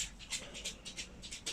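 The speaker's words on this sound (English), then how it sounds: "Sorry, my dog's just coming to me." A dog comes close and pants: soft, rapid rhythmic breaths repeating steadily at close range, fairly quiet, with no talking over it.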